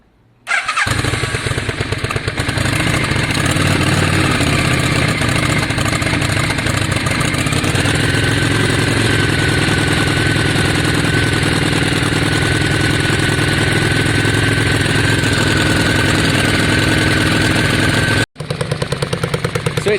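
A Yamaha Virago motorcycle with straight drag pipes fires up and idles loud and close, a rough, steady throb with a brief cut near the end before it picks up again.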